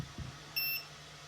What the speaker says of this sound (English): Alright, buzzer is work, as you can hear when I take off the battery